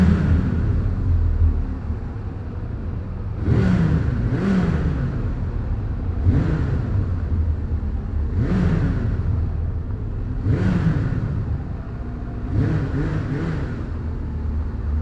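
Car engine with a standard exhaust revved repeatedly, about six sharp rising blips over a steady idle, each climbing and dropping back, loud and close.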